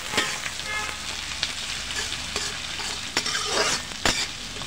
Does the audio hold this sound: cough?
no